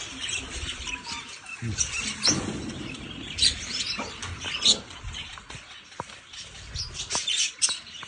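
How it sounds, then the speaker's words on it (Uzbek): Small birds chirp in short, scattered bursts at moderate distance, with faint squeaks and light pattering in the background. "Qushlar"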